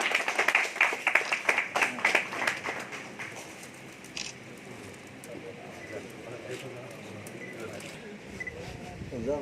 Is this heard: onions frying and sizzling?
no